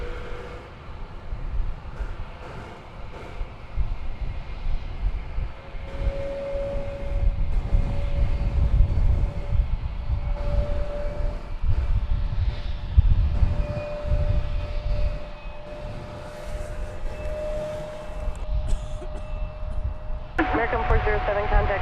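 An American Airlines jet takes off from runway 36 right at DFW Airport, a steady low engine roar rising and swelling throughout, with radio talk over it and a faint tonal whine.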